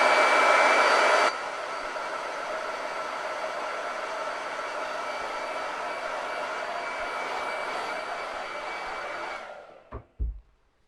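A hair dryer blows steadily to dry paint touch-ups on a wooden shiplap board, a loud even whirring hum held for about nine seconds before switching off, with a couple of small knocks after.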